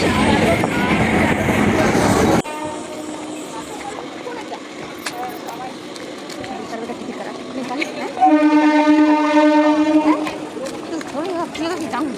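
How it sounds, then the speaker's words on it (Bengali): A train runs across a bridge, heard from a boat: a loud broadband rush at first, then a steadier rumble with voices nearby, and a sustained horn-like tone partway through. "নৌকাটি ব্রিজের উপরে ট্রেন চলছে দেখতে পাচ্ছি"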